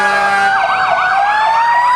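A Manchester Fire Department fire truck siren blaring close by, its steady tone shifting into a rapid warbling yelp partway through, loud and continuous.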